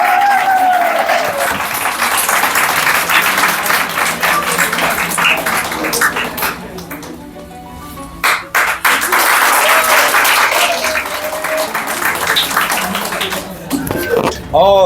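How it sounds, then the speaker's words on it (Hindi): A crowd at a school toppers' honour ceremony and poetry gathering welcomes a poet with loud, sustained clapping that swells and dips over several seconds, while a voice talks over the applause. "जोरदार तालियों से स्वागत करें इनका।"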